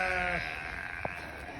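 Sheep on an Oregon farm bleat in a steady, sustained call for the first part, followed by quieter ambient farmyard noise and a brief faint sound.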